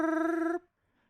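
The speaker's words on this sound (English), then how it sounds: "It's ringing." A single telephone ringing tone on a call, a bright buzzing ring lasting about half a second, then cutting off to near silence.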